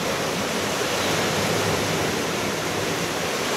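Large water wheel turning at an old watermill in Schmallenberg, Sauerland: heavy, steady rushing and splashing water roar, loud and close, continuous without pauses and with no voices.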